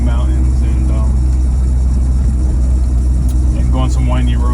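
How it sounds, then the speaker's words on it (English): A BMW E36 M3 on a relaxed first test drive through a neighborhood, its engine a steady, moderate drone with road rumble throughout, heard from inside the car. "this is the first test drive, just tooling around the neighborhood"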